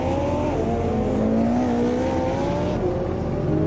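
A Mercedes race car engine in Automobilista 2 at Monza revs hard and climbs through the gears, rising and falling in pitch with each shift, loud and continuous with no talk over it.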